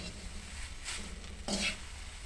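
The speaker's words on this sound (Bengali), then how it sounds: "নাড়াচাড়া করতে হবে, তাহলে ভালো করে তেলটা মিশবে" Dried jute leaves fry in oil as a spoon stirs them, giving a low, faint sizzle with two brief scraping strokes against the pan.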